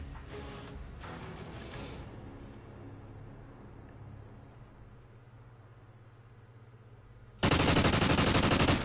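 Gunfire in a Search and Destroy round of a 1v1 video game match: a steady low in-game background rumble, then a sudden loud, dense burst of shots fills the last second and a half.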